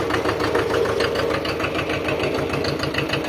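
A Hinomoto 23 hp farm tractor's engine running steadily close by, a loud rhythmic diesel chug with an even knocking pulse throughout.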